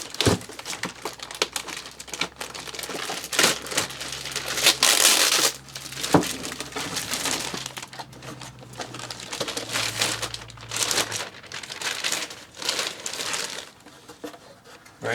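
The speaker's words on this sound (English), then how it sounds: "parts are wrapped in plastic also, not just the bubble wrap, but also plastic." Plastic and bubble wrap packaging being unwrapped from the parts of a wooden Boomerang Sprint V-2 during an unboxing, with close crinkling, crumpling and tearing that comes in bursts and continues steadily throughout.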